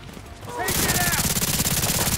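Rapid bursts of automatic gunfire from a firefight in The Division 2 break out after a brief quiet start and then roll on continuously and loudly, with dense repeated shots and no talking.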